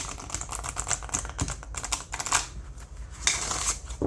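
Rapid papery flicks and soft clicks come in quick bursts as a deck of tarot cards is riffled together and shuffled, close by with no talking.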